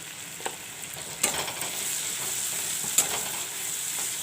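Turmeric and chili powder fry with white pumpkin in a quiet, even sizzle, with occasional sharp scraping stirs and clinks of a utensil, close and faint.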